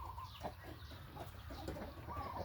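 A Thai breeding cock, a fighting-type rooster, clucks and shuffles close by in a quiet yard. The soft, intermittent calls sit over a low background rumble, with no talk.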